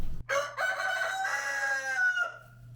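A single rooster lets out one long, loud crow close by during extreme -37°C cold, the call sustained and wavering before trailing off over a low steady hum.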